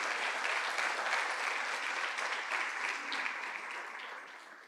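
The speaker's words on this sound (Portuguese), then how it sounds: "Você pode aplaudir o nome do Senhor por isso?" Congregation applauding during an Easter church sermon, continuous crowd clapping at moderate level that tapers off near the end, with no speaking over it.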